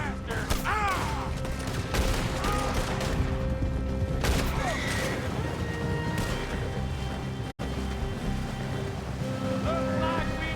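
Gunfire during a chase across a river in Red Dead Redemption 2, with scattered shots sounding over rushing water and splashing, mixed into a busy game soundscape.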